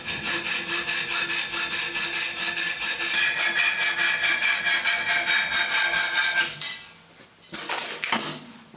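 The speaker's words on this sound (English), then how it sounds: "I'm now just going to cut this off to length." Saw cutting threaded steel bar to length for overhead garage hangers: steady rapid back-and-forth strokes for about six seconds, then the cutting stops and a few light knocks follow, close and alone.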